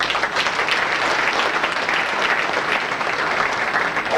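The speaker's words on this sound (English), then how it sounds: "Let's give them a round of applause" A banquet crowd at a 1993 St. Louis auto racing fan club awards dinner applauds with dense, sustained clapping from many people in a room.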